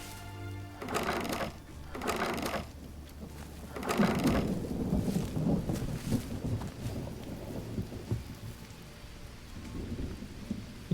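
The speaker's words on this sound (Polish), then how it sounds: "Burza się zbliża." Rain pours steadily with rolling rumbles of thunder as a storm moves in over the jungle in the survival game Green Hell, loud bursts swelling and fading across the whole stretch with no talking.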